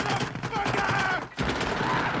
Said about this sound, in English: Where's the sniper? He's gonna shoot us.